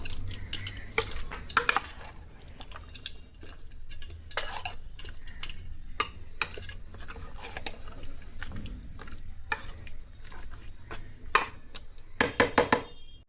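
Meat being mixed with Kashmiri chili in a pot, heard as repeated close scraping and clinking strokes of a utensil against the metal, irregular and fairly quiet.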